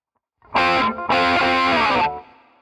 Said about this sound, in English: it sounds like he slides down off the double stops at the end of each time through, like this